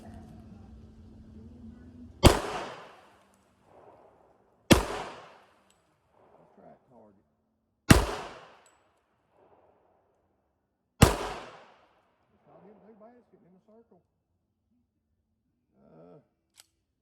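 Four sharp, loud gunshots from a new, never-fired gun crack out at intervals of a few seconds, each with a brief decaying echo, with faint voices in the quiet gaps.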